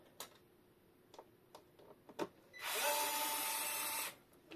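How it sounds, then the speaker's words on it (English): A small power screwdriver whirs for about a second and a half while screws are removed from an ElecHive 2500 portable power station, with light ticks and clicks of handling before it. "when you unscrew the screws"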